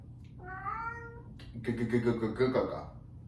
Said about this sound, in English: That's my cat, Pumpkin.